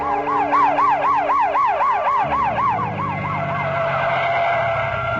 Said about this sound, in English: But a police cruiser, attracted by the noise, pulls up.